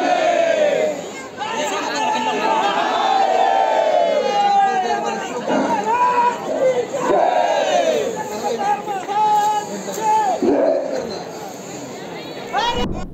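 A large crowd at the Katebaras fair, a Mahadev festival, chants and shouts in loud rising waves of voices, close and dense throughout, with no clear drumming.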